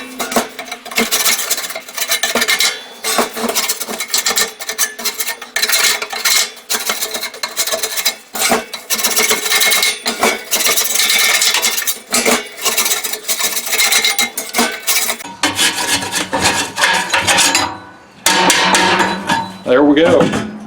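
Metal scraping on the charcoal basket and flame diffuser of a K4L drum cooker, caked with oil-soak residue: continuous harsh, gritty rasping strokes with clanks, loud and close, trailing into a few sparser scrapes near the end.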